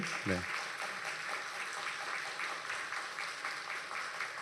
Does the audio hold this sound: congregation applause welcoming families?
yes